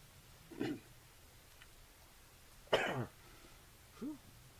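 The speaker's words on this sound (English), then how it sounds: "Cough, cough." Three separate coughs, one short, then a louder harsh one, then a brief throaty one, spaced apart in a quiet room.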